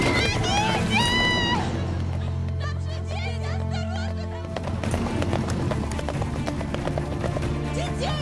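A runaway horse in a film scene, hooves clattering in a quick rhythm amid a busy street-like commotion, with a shrill whinny near the start and people shouting over it.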